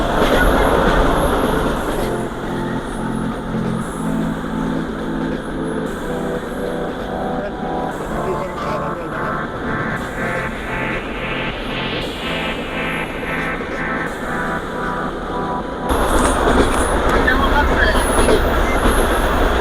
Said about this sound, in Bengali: তো ট্রেন আসলে বেশ ভালো দৌড়ে যাচ্ছে।